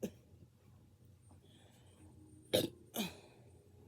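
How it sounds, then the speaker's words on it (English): Two short, abrupt burps after chugging a drink come about half a second apart near the end, standing out clearly against an otherwise quiet room. "this is turning into a chugging video and a burping video"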